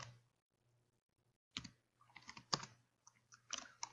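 Quiet, close clicks of a computer keyboard as a short word is typed in a few irregular bursts after a brief pause, with no talk.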